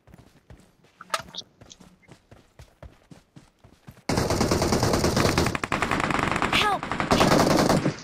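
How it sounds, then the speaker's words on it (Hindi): Rapid bursts of automatic gunfire in the mobile battle game BGMI, played on the Livik map. Sparse shots come first, then a dense, loud, continuous barrage over the second half. "मारो मारो तुम, फायर देते रहो फायर देते रहो"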